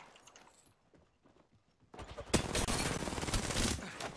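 Gunfire in a PC shooter game: quiet, scattered shots at first, then a loud, dense volley of rapid shots that keeps going to the end.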